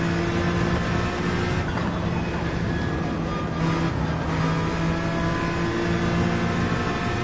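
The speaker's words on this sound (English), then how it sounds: "So I need to remember to rev out the NSX" A Honda NSX racing car in Gran Turismo 7, its engine droning loud and sustained at high revs, with steady harmonic whine and no talk over it.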